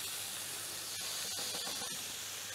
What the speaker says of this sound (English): leave them to get a good dark brown sear